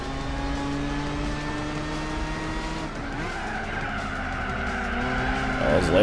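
A race car in Gran Turismo 4 braking hard for a corner during a one-make club race, tires squealing over a droning engine note that drops in pitch, then picks up again as it accelerates, loud and close.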